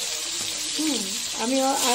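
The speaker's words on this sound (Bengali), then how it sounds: "মাছগুলো এক এক করে ভেজে নিচ্ছি।" Pieces of bhola fish fry in hot oil, a soft, steady sizzle running under a person's voice.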